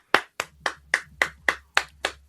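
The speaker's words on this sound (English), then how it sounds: "Applause from B-Rob." Eight sharp hand claps in a steady rhythm from a single person, close and clear, each a crisp snap with a short decay, during a year-end wrestling awards show.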